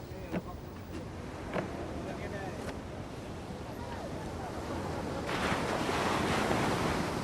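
Ocean surf rolls and breaks on a beach on India's Coromandel Coast, a continuous wash of waves with wind, swelling louder near the end as a bigger wave crashes in.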